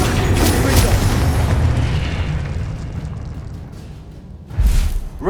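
A Confringo blasting spell explodes in Hogwarts Legacy: a loud, booming blast with rumbling debris that fades away, then a second sharp burst near the end.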